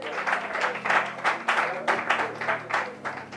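A church congregation bursts into steady applause during a French-language Bible study teaching, with rhythmic clapping swelling in regular pulses over a low hum, loud and close, with no clear speech on top.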